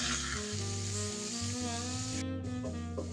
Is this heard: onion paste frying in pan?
yes